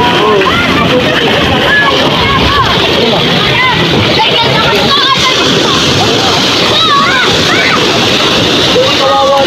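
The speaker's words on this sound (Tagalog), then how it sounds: "Lakas ng alon! My God! Grabe. Lakas ng alon." Loud, strong waves churning and sloshing against a boat hull, with crowded voices and excited chatter layered over the constant splashing.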